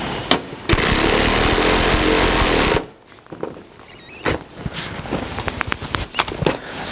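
Power tool tightening fasteners on a 2019 Subaru Forester headlight, one loud continuous burst of about two seconds up close, followed by softer clicks and handling noises.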